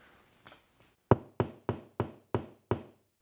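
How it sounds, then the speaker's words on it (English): A penny nail is hammered into drywall with six sharp, evenly spaced knocks after a few soft taps, close and fairly quiet with no voices. "you can pound a penny nail right into the mark that you made on the drywall"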